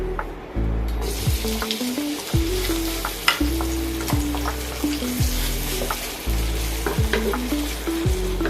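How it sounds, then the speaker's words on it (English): Bawang bakong, a small native onion, fries loudly in a pan, a steady close sizzle broken by repeated scraping stirs, with no voices. "Fry the bawang bakong first."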